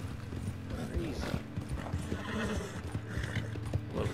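Horse in the Red Dead Redemption 2 video game, with steady clip-clop hoofbeats and neighs and whinnies over game ambience, plus a faint voice in places.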